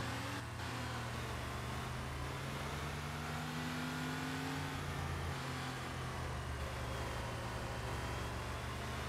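A Porsche engine in the Need For Speed Porsche Unleashed racing game drones loudly and without a break, revving and holding steady through the race.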